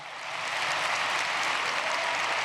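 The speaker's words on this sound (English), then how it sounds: "give them a round of applause" Graduation ceremony audience giving scholarship students a round of applause, the clapping swelling in quickly and holding as a steady, moderately loud crowd wash.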